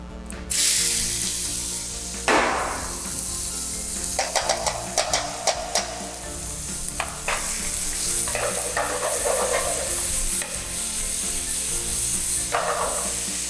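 Salted chicken pieces fry in a hot pan, sizzling loudly and steadily while a utensil stirs and scrapes through them in irregular clicks and bursts.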